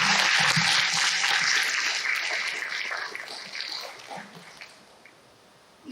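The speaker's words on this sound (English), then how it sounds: "give yourselves a well-deserved applause as well" A class on a live Zoom session claps for itself, a dense burst of applause that starts strong and gradually fades out over several seconds.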